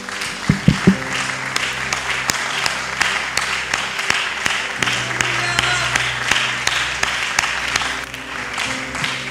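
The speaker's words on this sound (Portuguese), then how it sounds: "Irmãos, dê essas palmas para Deus e vai dar-lhe dele com força" A church congregation claps steadily and loudly in rhythm, with voices and music mixed in throughout.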